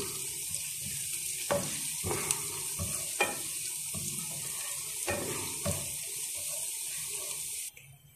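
Garlic frying in olive oil in a pan for sinangag, a steady broadband sizzle running throughout with a few sharper clinks and stirring knocks, ending in a sudden drop near the close.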